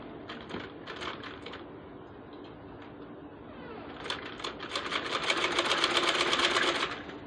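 Sewing machine stitching ribbon along the edge of a dupatta, a steady rapid mechanical rattle that swells louder and faster toward the end, close by with no talk.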